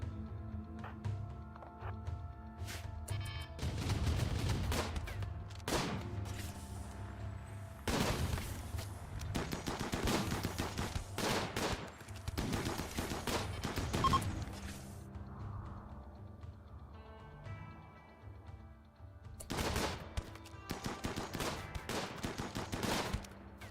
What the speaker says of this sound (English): And turn on the turrets.